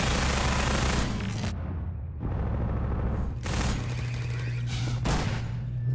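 Dense, sustained gunfire around turrets in the video game Half-Life 2, a loud, continuous fusillade with brief lulls and heavy low rumble throughout.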